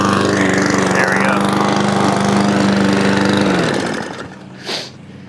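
A cheap Amazon Smartpower lawn mower grinds loudly and steadily through an overgrown lawn, its engine droning up close for several seconds before dropping off sharply and fading to a quieter hum.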